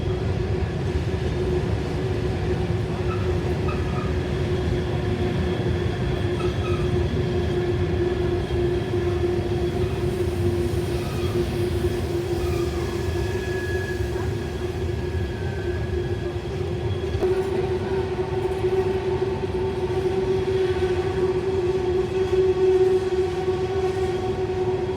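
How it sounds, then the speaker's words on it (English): A freight train rumbles steadily past at close range on Horseshoe Curve near Altoona, Pennsylvania, with a continuous droning hum and rattling wheels, no voices. "The next train was an NS"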